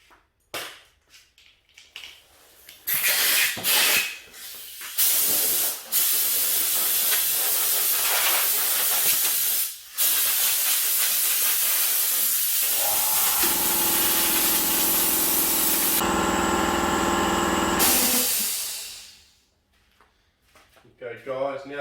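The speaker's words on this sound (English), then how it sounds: "now that the air compressor's stopped making such a racket" Air compressor nozzle blasts debris off a bonsai pot holding an Australian native Melaleuca decussata, a loud sustained hiss after a few short bursts, cutting out near the end, with a voice heard around it.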